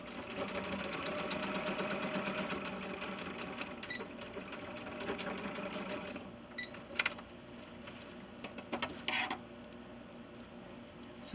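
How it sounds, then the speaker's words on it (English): A sewing machine runs continuously while stitching the back crotch seam of pants for a 70 cm male ball-jointed doll, then slows into a few short bursts and clicks before falling quiet. "I'm going to sew the back crotch together"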